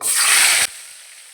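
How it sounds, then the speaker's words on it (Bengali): Katla fish pieces fry in hot mustard oil with a loud, bright sizzle that cuts off abruptly partway through, leaving a faint hiss. "দিচ্ছি সর্ষের তেল এক এক করে মাছগুলো ভেজে নেবো"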